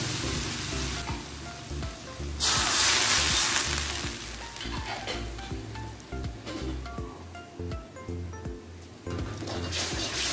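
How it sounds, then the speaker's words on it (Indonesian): Water hits hot frying sambal udang rebon, dried tiny shrimp chili paste, in a pan, bursting into a loud, bright hiss that settles into a steady, bubbling sizzle with occasional stirring scrapes. "Saya akan bagi air sedikit ya."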